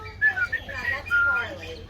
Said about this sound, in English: This is Kramer, the white bird